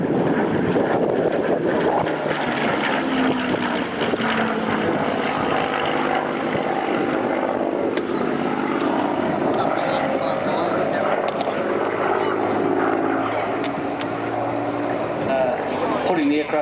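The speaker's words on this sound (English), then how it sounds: "Let's listen to the fabulous Merlin engine once again." A vintage aircraft's Merlin engine drones loud and steady as it flies at the Avalon Airshow in 2001, a continuous heavy propeller roar under a commentator's voice, with some wind noise.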